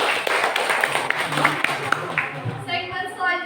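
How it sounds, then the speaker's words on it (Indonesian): An audience at a school debate claps for both teams, a dense run of applause with sharp hand claps, heard under a speaking voice that continues throughout. "marilah kita beri tepuk tangan yang meriah untuk kedua"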